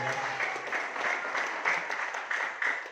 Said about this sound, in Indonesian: aplaus buat Ibu Seko kita ya